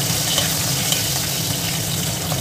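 Cumin seeds and whole garlic cloves sizzle loudly in hot oil while being stirred, a dense, continuous crackling close up.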